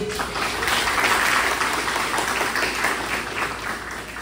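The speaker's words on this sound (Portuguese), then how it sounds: "Você pode dar um forte aplauso ao Senhor?" A church congregation at a Sunday service claps together in a steady, sustained round of applause that swells slightly and then holds.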